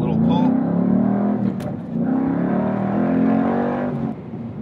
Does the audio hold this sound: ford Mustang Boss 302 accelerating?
yes